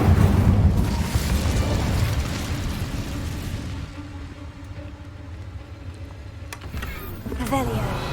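Incendio fire spell cast in the video game Hogwarts Legacy, a loud roaring flame burst at the start that gradually fades into quieter crackle and game ambience.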